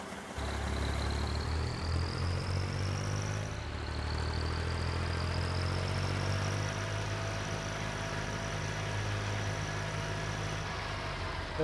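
A Fendt Farmer tractor in a farming video game drones steadily from inside the cab, with one quiet gear shift briefly interrupting the engine note before it picks back up and rises.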